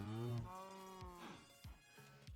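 Minecraft cows moo in the game world, a single drawn-out low moo followed by fainter short animal grunts, quiet and alone without talk.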